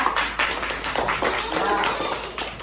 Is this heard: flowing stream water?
no